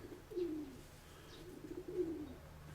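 Soft cooing of a dove held in the hand, with two low, drawn-out coos rising and falling a little over a second apart. The sound is quiet and close.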